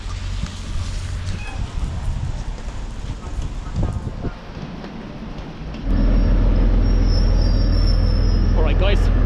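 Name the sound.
train arriving at station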